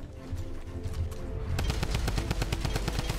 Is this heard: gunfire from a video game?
yes